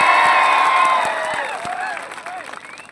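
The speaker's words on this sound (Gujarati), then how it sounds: "થોડા ઉત્સાહ સાથે તાળીઓ પાડજો" A crowd at an Aam Aadmi Party public election rally in Karjan's ward 7 claps, cheers and whoops. Loud voices rise and fall over scattered claps, then thin out toward a quieter, patchier close.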